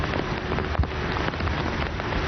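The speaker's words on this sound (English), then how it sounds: "The rain picking up pace." Steady rain pours down outdoors during the Beating Retreat military ceremony at Vijay Chowk in Delhi, a dense continuous hiss of drops hitting surfaces with occasional heavier splatters and no voices.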